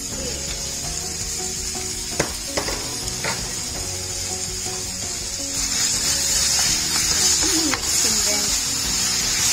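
Minced beef frying in a covered pan makes a continuous loud sizzle that grows stronger toward the end, broken by a few sharp clicks and utensil knocks.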